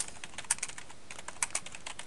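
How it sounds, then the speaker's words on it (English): Fast, light typing on a computer keyboard, a run of small clicks with a few sharper key strikes, close and fairly quiet, with no talking. "you would simply create a box and then start typing"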